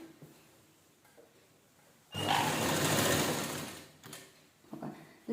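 Sewing machine running in one steady, loud burst of about two seconds while stitching along a folded edge of fabric on a sleeved top, with quiet handling sounds before and after.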